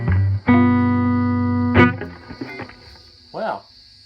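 Electric guitar played through a Fender Princeton Reverb amp fitted with EL34 tubes, a sustained strummed chord ringing out with a long reverb tail, then a few softer picked notes and a brief sliding flourish near the end.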